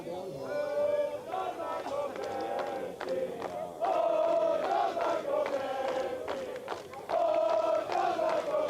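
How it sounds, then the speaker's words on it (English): Soccer fans singing and chanting together in the stands at a Lamar Hunt Open Cup qualifying match between Chicago House AC and Wisłoka Chicago, a loud continuous crowd chorus that swells in waves. "Fans serenading John McAwicky"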